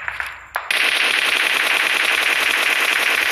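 Automatic gunfire in PUBG Mobile starts after a brief quiet moment and then rattles on in a fast, unbroken, loud stream of shots.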